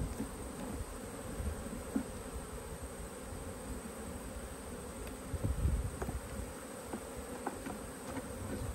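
Italian honey bees buzzing around an opened hive during a beekeeping inspection, a steady close drone of many insects with occasional louder passes and light handling knocks.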